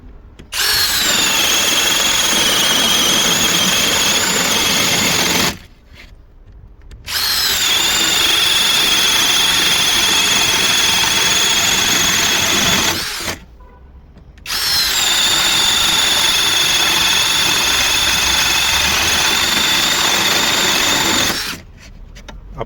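A Vitals Professional AU 1840 cordless drill driver drives an 8 by 100 mm lag screw into a birch beam without a pilot hole. The loud, close motor whine comes in three long bursts, separated by short pauses.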